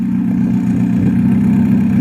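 A car engine runs with a newly made up-pipe muffler, giving a loud, steady, low droning hum with a faint clattering texture and no break in the sound.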